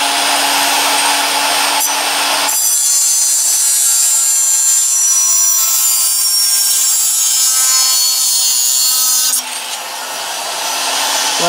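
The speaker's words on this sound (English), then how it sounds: "The brass tubing is most difficult to cut off without distorting it, even with an extremely fine model maker's type" An extremely fine model maker's saw cuts through brass tubing with a harsh, rasping scrape, close and loud, in a few long continuous strokes with brief pauses between them.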